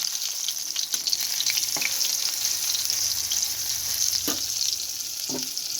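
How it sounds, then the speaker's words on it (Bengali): Sesame fritters sizzle steadily in hot oil, a bright continuous crackle close by, with a few soft taps and scrapes from a utensil. "দেখো তিলের বড়াটা কেমন ভাজা হচ্ছে"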